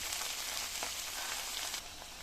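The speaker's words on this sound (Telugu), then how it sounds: "కొత్తిమీర ఇలా వేసాం కదా, ఇప్పుడు కొంచెం మంట పెంచుకొని ఇట్లా తిప్పుకున్నాం అనుకోండి, మగ్గిపోద్ది" Chopped coriander leaves sautéing in a pan over a raised flame for a Telugu chutney, a close, steady hissing sizzle that drops slightly in level near the end.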